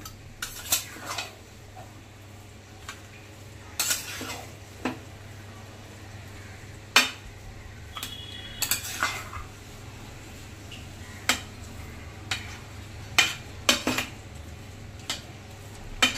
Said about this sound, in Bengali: এবার সুন্দর মতো কিন্তু আরেকবার একটু নেড়ে দেব।